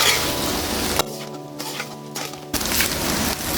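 Fried rice with boiled vegetables being stirred in a pan, with loud sizzling and scraping that drops away for about a second and a half mid-clip before resuming.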